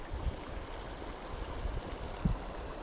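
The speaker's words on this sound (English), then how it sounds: "all around this rock it's bubbling everywhere." Water gurgling and bubbling up all around a rock in moving water, a low continuous churning wash with a few soft thumps, heard close with no voices.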